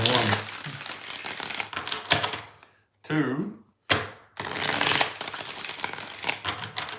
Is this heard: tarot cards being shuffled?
yes